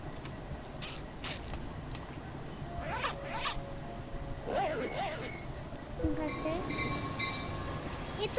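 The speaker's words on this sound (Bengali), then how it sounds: "ট্রেন চলে এসেছে, ট্রেন চলে এসেছে" A train pulls in with a low rumble and rising metallic whine and squeal, while people chatter and move around nearby.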